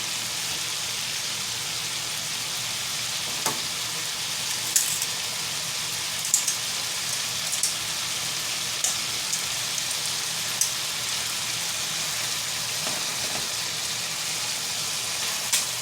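Food sears in butter and mostly olive oil in a pan with bell pepper, celery and onion, producing a constant fine sizzle dotted with sharp scattered pops and crackles.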